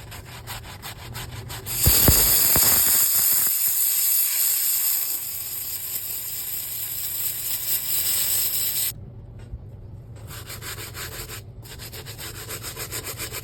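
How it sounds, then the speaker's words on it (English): Dirty Nike Dunk sneaker insoles and soles are scrubbed with a brush. The rapid, rasping strokes are loud and close at first, then a steady softer scrubbing continues with brief pauses. "We're going to be cleaning the insoles and the bottoms that are dirty."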